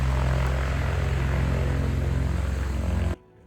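Small airplane engine running at an airfield, a steady loud propeller drone with a throbbing pulse that holds for about three seconds and then cuts off abruptly.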